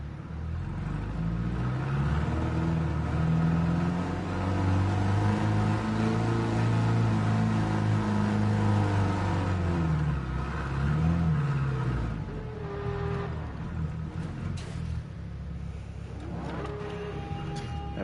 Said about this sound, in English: Driving my Mercedes.